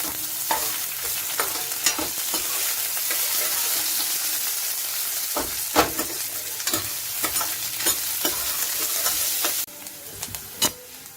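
Vegetables for veg chowmein stir-frying in a hot pan, a steady sizzle broken by repeated sharp scrapes and clatters of the spatula, close and fairly loud throughout, with no talking.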